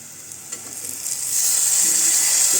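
Masala and onion fry steadily in hot oil for a brinjal and potato curry, a continuous close hiss that swells louder partway through, with no voices.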